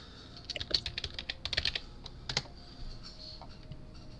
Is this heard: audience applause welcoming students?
no